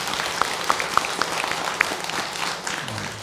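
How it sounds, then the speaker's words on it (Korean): At a temple dharma service, a congregation gives a round of thankful applause, a dense patter of many hands clapping with a few sharper claps standing out, moderately close. "모두 감사의 박수 한번."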